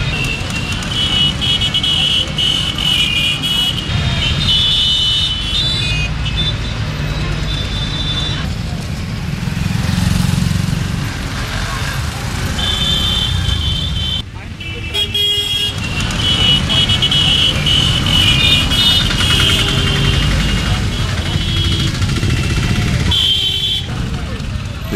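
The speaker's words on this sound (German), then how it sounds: "eine funktionierende Hupe, die laut und aggressiv bei jeder Gelegenheit eingesetzt wird" Dense street traffic in Jaipur, India, with car horns honking repeatedly in bright bursts over a steady engine rumble, while voices murmur in the background throughout.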